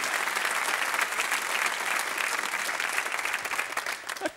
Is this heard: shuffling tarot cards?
no